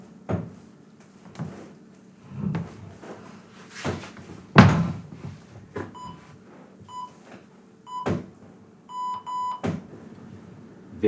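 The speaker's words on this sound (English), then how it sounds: "an interval timer, like I'm going to do here, that's going to beep at me" An interval timer beeps during a bodyweight pull-up exercise session, giving a few short repeated electronic beeps amid scattered thuds and clatter of movement, with no talking.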